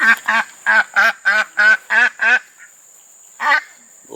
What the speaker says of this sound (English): If you guys don't know what a broody duck sounds like, this is what it sounds like.